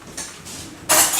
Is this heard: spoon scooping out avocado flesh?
yes